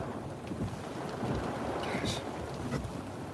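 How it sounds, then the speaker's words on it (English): Strong wind and rain during Hurricane Idalia in Perry, Florida, roar as a dense, constant wash of gusts and downpour close by, with a person briefly exclaiming over it. "The wind's really blowing here."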